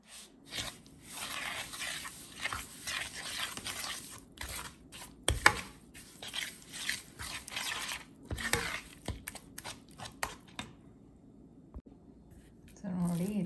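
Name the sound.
mixing vegetable handvo batter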